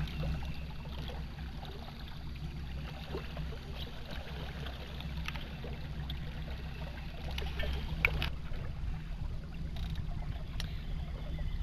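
Small boat traveling upstream on the Saline River, a steady low engine drone with water rushing and lapping alongside, a few brief knocks and splashes, no voices.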